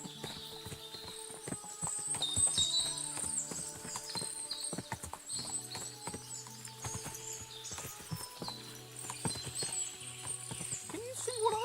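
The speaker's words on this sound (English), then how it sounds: "What a lot of horses!" Many horses in the medieval game Kingdom Come: Deliverance II, their hooves clip-clopping steadily nearby with occasional whinnies, beneath a dense bed of background music and ambient chatter.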